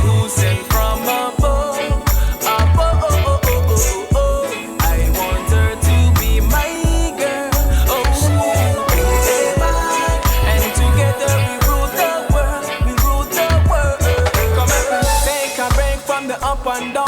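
A track plays as dense, full-band music with a steady driving beat and layered melody, loud and continuous throughout with no talking.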